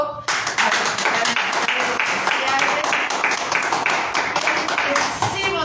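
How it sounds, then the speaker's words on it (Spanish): A church congregation giving warm applause, many hands clapping in a dense, lively burst that carries on steadily for several seconds, close and fairly loud. "Denle un aplauso caluroso a los que están"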